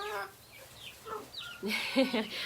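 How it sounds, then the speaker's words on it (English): Backyard chickens, including a little white Silky hen, give soft, scattered clucks at close range among faint rustling, with a brief louder flurry of clucking near the end. "Spoilt chickens."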